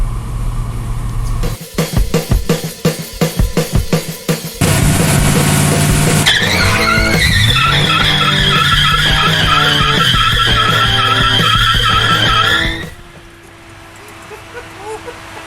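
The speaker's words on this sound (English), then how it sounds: "Told you he'll do burnout. It will do one." A Mazda RX-7 revived after sitting in a barn does a burnout, engine revving hard and tires squealing loudly in a long wavering screech before it cuts off to a quieter idle, with voices and shouts around it.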